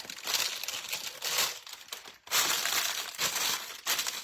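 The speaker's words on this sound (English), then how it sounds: "Okay, let me get some parchment paper." Close, continuous crinkling of parchment paper in several bursts, rustling and crackling as it is handled and pressed flat.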